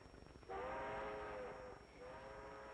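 A moving train sounds a horn or whistle: a long held tone, a short pause, then a second shorter blast, over a soft rolling rumble that suggests distance.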